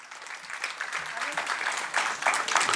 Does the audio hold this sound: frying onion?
no